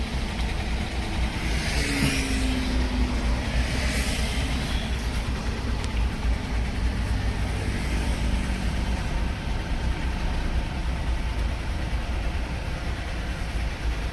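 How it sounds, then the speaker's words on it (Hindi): A small Alto K10 car rolls along an Indian highway near Nagpur, giving a steady, broadband road and engine rumble heard from inside the cabin, constant throughout with no talk. "ये गाड़ी मेरी है अल्टो छोटी"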